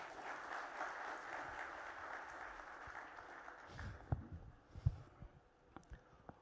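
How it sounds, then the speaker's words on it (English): An audience at a business conclave and awards ceremony applauding, a steady, somewhat distant wash of clapping that thins out into a few scattered louder claps and thumps. "Big round of applause."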